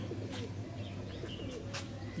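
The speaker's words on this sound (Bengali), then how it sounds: "ওরও পুরাতন পায়রা" Low, soft cooing from pigeons repeats steadily, with a few faint chirps and rustles over a constant background hum.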